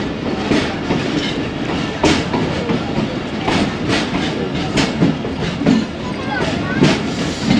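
The Musa Pak Express rolls steadily with rhythmic clickety-clack wheel beats on the rails, loud and close, the train noise continuous throughout.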